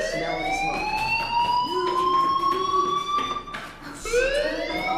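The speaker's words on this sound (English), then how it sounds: "Hey, do you hear that fire alarm?" Fire alarm in the video game Life Is Strange, a loud, steady electronic wail with rising and falling pitch sweeps, continuous over several seconds with brief dips, no speech.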